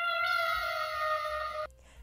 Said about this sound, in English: Snickerdoodle is a 16-year-old domestic short hair kitty that is at the Long Beach Animal Shelter